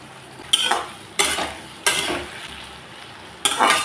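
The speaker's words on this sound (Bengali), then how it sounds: "এখন দিয়ে দিচ্ছি টুকরো করা টমেটো।" Chopped tomatoes and slit green chillies dropped into a hot frying pan: four separate bursts of loud sizzling hiss, each fading quickly, close up with no talking.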